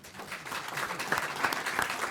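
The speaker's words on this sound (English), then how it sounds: "you need to applaud these two teacher leaders one more time" Applause from board members and attendees at a school board of education meeting, honoring two teacher leaders; steady moderate clapping from a room of people, fairly close, sustained throughout with no talk over it.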